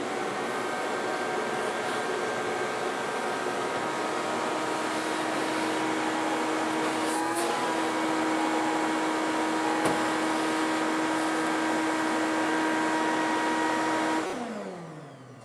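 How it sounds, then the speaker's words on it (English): A shop vacuum roars steadily for about fourteen seconds, sucking metal shavings out of a CNC mill, a strong whooshing drone with a brief rattle midway, then winds down at the end. "take the vacuum and just vacuum out all this shavings"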